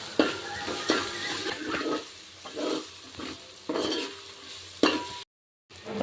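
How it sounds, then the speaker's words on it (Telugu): Ginger-garlic paste and tomato pieces are stirred in a frying pan for tomato rice, with repeated close scraping strokes over a soft sizzle, followed by a brief silent gap near the end. "అది పచ్చివాసన పోయేలాగా మంచిగా అటు ఇటు కలుపుకుంటున్నా, టమాటా ముక్కలు కూడా మంచిగా పట్టేలాగా"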